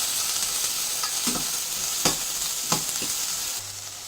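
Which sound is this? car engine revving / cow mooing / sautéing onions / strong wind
sautéing onions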